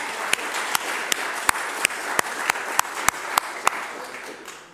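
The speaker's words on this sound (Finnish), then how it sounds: "Annetaanko aplodit oikein?" Audience applause at a Finnish church daytime gathering, a dense steady wash of many hands with a few sharper individual claps standing out, fairly close and fading slightly at the end.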